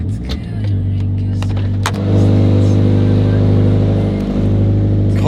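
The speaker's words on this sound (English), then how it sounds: "Cold start is loud." A Toyota GT86 sports car engine fires up from cold, cranking briefly then catching into a loud, raspy high idle that rises with a rev and settles, close by with no talking.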